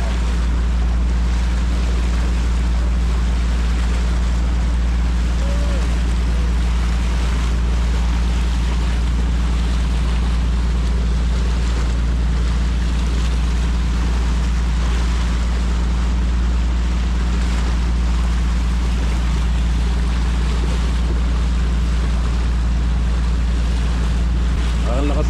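A small motor bangka crosses open sea, its engine droning loud and constant throughout with wind buffeting the microphone and splashing water underneath.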